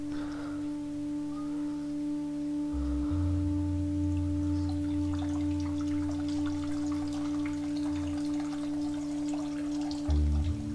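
A toilet flush effect in the video game The Static Speaks My Name, a watery, synthetic gurgle over steady electronic tones and low background music.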